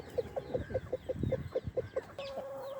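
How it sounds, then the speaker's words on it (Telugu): An old laying hen, the oldest in a backyard flock, clucks in a steady series of about ten short, evenly spaced calls, fairly close, followed by a longer drawn-out note at the end, with no talking. "నా స్టార్టింగ్ నుంచి ఉన్న పెట్ట ఇది వయసులో అన్నిటికంటే పెద్దది"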